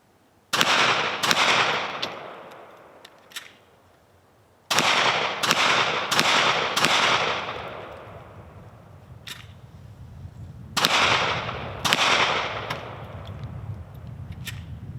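Gunshots from a Kel-Tec PMR30 pistol fired at a range, sharp loud cracks in irregular clusters of single and quick double shots separated by pauses, each with a short ringing decay.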